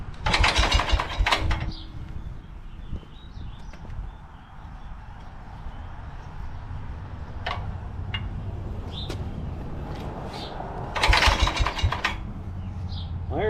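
A Wisconsin engine coupled to a Leland alternator generator is cranked in two loud, rough bursts near the start and end, with quieter mechanical clatter and ticks between them and no sustained running.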